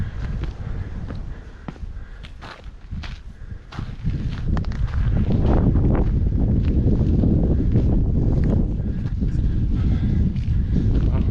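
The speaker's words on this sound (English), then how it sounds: "This wind blowing." Wind gusts roar across a foggy mountain trail near the summit of Mt. Major in New Hampshire's Belknap Range, a steady low rumble of buffeting that strengthens midway, with scattered footsteps crunching underneath.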